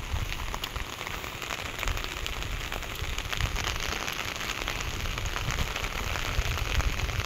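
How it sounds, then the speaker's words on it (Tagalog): Rain falls steadily on surfaces outdoors in the mountains during firewood gathering, a dense, even patter of drops that stays constant and fairly loud, with no voices. "Naulan, hindi ka nagpayong."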